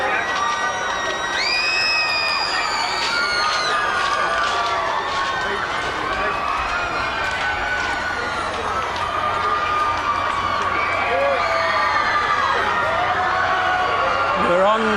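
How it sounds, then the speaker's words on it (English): A large crowd of Michael Jackson's fans outside the court cheers, whoops and shouts in a sustained roar, with high excited voices rising and falling, loud and close throughout. "We're on pictures of Michael Jackson waving to the crowd, walking out, and the crescendo grows from his fans."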